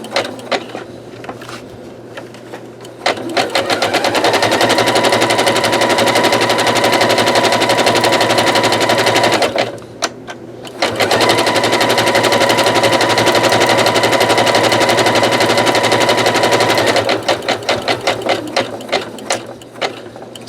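A sewing machine stitches a rope bowl in long sustained runs, loud and close, a fast rattling mechanical chatter that stops briefly and then starts again, with slower stitch clatter at the start and end.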